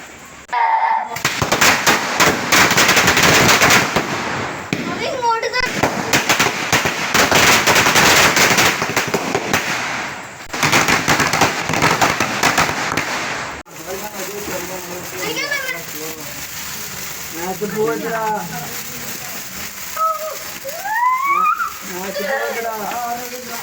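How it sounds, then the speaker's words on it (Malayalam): Firecracker strings bursting at home after a church festival in dense, machine-gun-like volleys that stop and restart, followed by children's excited voices and chatter as the bangs thin out. "ഇനിയിപ്പോ വീട്ടിലത്തെ വെടിക്കെട്ടാണ്"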